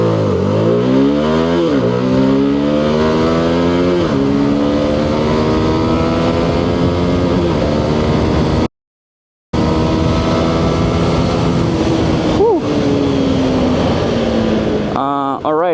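A CFMOTO 250SR motorcycle accelerates hard from a standstill through its gears, each shift marked by a sharp drop and a renewed rising whine, loud and close, with a short gap of silence midway.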